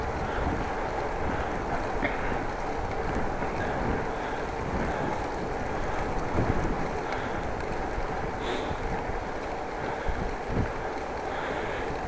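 Steady wind roar buffets the microphone during a winter bike ride in the Netherlands, a light headwind rushing continuously and fairly loud with no voices.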